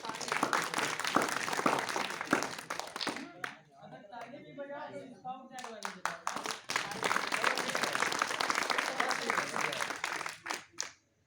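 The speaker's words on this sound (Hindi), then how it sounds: "ताली हो जाए अरे" Audience applause from a group of children in a classroom, a dense, steady patter of many hands clapping, briefly dipping as voices talk in the middle before the clapping resumes and fades out at the end.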